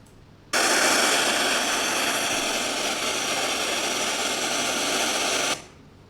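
Pink noise played through a sound card at 44.1 kHz: a steady broadband hiss starts abruptly, holds evenly for about five seconds, then cuts off; its tone is slightly darker and softer than pure static.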